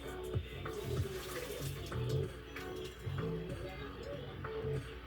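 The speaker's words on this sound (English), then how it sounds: "All right, let's drain this." Cooked instant noodles drained into a sink, water splashing and running steadily from a pot with faint clinks, fairly close and moderately loud throughout.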